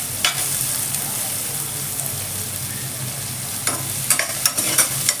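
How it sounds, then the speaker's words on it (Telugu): Onions and green chillies fry hard on a high flame for restaurant-style butter chicken fry, giving a loud, dense, continuous sizzle. Brief scraping and stirring clatters break through toward the end. "ఉల్లిపాయ కాస్త హై ఫ్లేమ్లో పెట్టి మంచిగా వేయించుకున్నామంటే చాలా త్వరగా కలర్ చేంజ్ అవుతుంది, మంచిగా వేగుతుంది"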